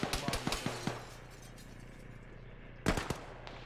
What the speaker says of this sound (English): I don't know where that guy is that's shooting at me.